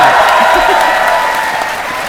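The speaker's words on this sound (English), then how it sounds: "Everyone cheer him on!" A convention crowd at PAX West applauding and cheering during a live Final Fantasy XV demo, producing a loud, continuous wash of clapping and shouts that fills the hall.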